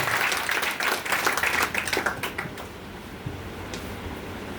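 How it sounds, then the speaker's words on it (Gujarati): An audience breaks into applause, a dense burst of clapping that holds for about two seconds, then thins out and fades to a quiet room with a few stray claps. "જોરદાર તાળી થઈ ગયો દિલથી"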